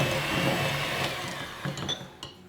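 An electric hand or stand mixer creaming butter with granulated sugar, a steady whirring motor drone that fades, then a few clattering knocks of the beaters against the bowl.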